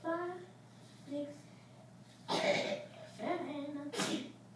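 In a classroom, a child gives two sharp, close sneezes a couple of seconds apart, with soft children's voices speaking around them.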